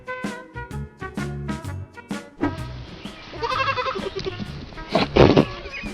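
Goats bleat in a series of loud, nasal calls close by, several separate cries at first, then overlapping bleats from more than one animal that swell louder toward the end.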